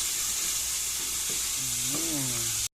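Chopped onion sizzles steadily in a hot pan for butter shrimp, a constant hiss of frying with a brief stir, as a faint voice briefly sounds near the end.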